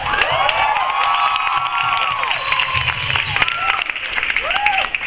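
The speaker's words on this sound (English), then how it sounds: "we should give them a round of applause for Julie and Kevin." Audience in a room breaks into loud, sustained applause mixed with cheering and whoops, with excited voices shouting over the clapping throughout.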